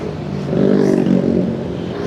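Heavy road traffic on Java's Pantura highway, passing trucks giving a steady low engine rumble that swells in the middle and eases off, heard over wind and engine noise from a touring motorbike, with no talk.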